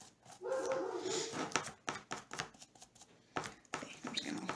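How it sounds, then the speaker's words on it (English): A dog barks in short, sharp bursts, several times, with someone talking over and between the barks. "Oh, the dog's out there. She's barking at the kids as they walk by."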